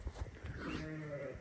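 Sheep bleat in a livestock pen where young pregnant ewes and a ram are for sale; a drawn-out, wavering bleat rises close and clear after a couple of soft thumps, with no talk.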